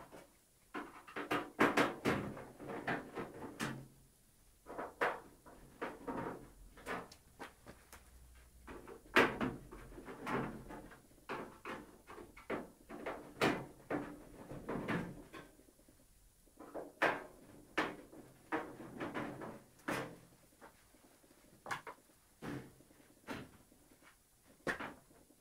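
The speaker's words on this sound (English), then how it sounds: "So the first step is to take off the top cover on your oven." Metal top cover being lifted off an electric oven, a run of sharp clanks, scrapes and thumps in irregular bursts, fairly close, with brief quiet gaps between handling noises.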